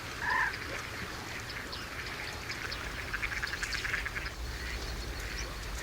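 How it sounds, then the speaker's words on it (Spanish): Mallard ducks quack and chatter at a Spanish lagoon in Villafáfila, with a brief clear call near the start. Faint mixed bird and frog-like calls sit over a steady outdoor background. "especies comunes, como los ánades reales, unos asiduos visitantes de las lagunas españolas"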